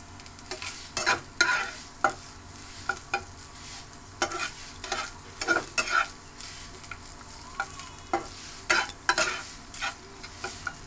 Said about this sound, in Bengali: নারকোল কোড়াটা আমি একটু ভালো করে ভেজে নেব।